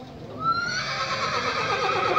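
A horse at a Lahore horse market lets out a single loud, close neigh that starts shrill and settles into a long, wavering whinny.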